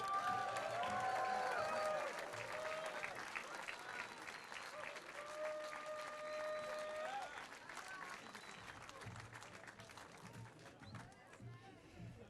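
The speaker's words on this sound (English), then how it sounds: "You're all cheering, which is good" Outdoor pro-Israel human rights rally crowd applauding and cheering loudly and continuously, dense clapping with whoops that taper off toward the end, with a voice briefly audible over the crowd.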